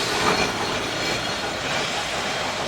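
A tram rolls along its tracks on a Milan street, giving a steady, close, broadband rumble of rail noise with a slight hiss throughout and no speech.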